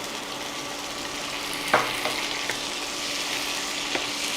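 Tomatoes sizzle in a hot pan in a steady, close hiss, and a few sharp clanks come from stirring. No one talks.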